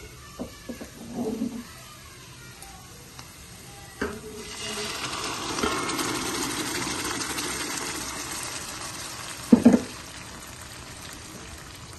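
Cooked dal tipped into a pan of sizzling tempering with mustard seeds, cumin, garlic, curry leaves and sliced onion: faint clinks and a stir, then a swelling hiss of sizzle, and a sharp utensil clatter near the end.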